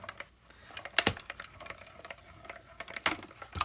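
A die-cutting machine pulls cutting plates through for a dinosaur card, producing a run of close, irregular clicks and clacks with two louder knocks.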